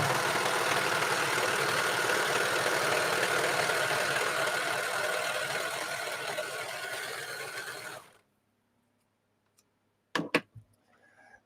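A serger sewing machine runs in a steady, dense whir for about eight seconds and then stops abruptly, followed by near silence and a few brief clunks.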